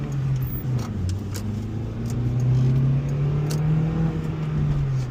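An Acura RSX with a high-revving VTEC engine accelerates hard, a steady loud engine drone climbing in pitch from inside the car, with no talking.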